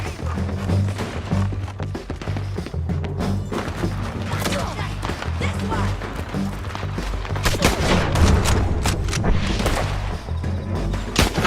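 Dense gunfire from a western shootout in Red Dead Redemption 2, with sustained crackling shots, thuds and crashes overlapping throughout, loud and continuous with scattered voices underneath.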